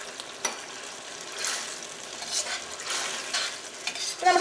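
Chicken Manchurian sauce bubbling in a pan as a spoon stirs through it, giving soft repeated scraping sweeps over a low steady simmer, close and moderately quiet, with no talking.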